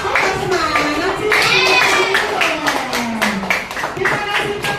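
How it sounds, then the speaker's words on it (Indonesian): A classroom of children applauds a group of classmates with quick rhythmic clapping, while excited young voices chatter and call out over the claps, close and lively. "Ya, kita kasih aplaus untuk kelompok 4."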